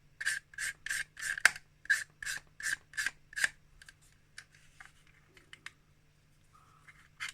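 Close-up rhythmic rasping strokes sanding a plastic model aircraft part, about ten quick scrapes in a row, then scattered lighter scratches and taps in near quiet.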